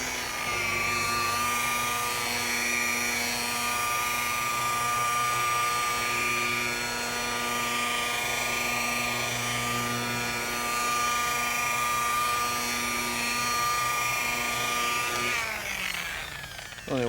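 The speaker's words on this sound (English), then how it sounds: "It's a nice rotary buffer. Compact size, lightweight, the Flex" Flex compact rotary buffer spinning around 1500 RPM while polishing out sanding marks with compound, a loud steady motor whine with strong tonal harmonics that holds evenly, then winds down near the end.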